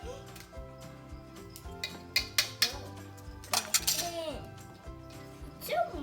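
A child stirs banana bread batter with a fork in a bowl, making light clinks and scrapes of metal against the dish in irregular bursts, with children's voices talking over it.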